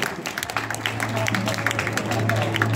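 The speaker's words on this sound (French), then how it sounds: "Et on applaudit très fort." An audience at a medal ceremony in Bias applauds, a dense patter of many hands clapping that builds steadily, with voices mixed in.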